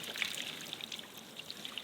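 Water spills over the rim of a wood-fired hot tub outdoors, a soft, steady trickle with faint splashy droplets, quiet and close with no voices.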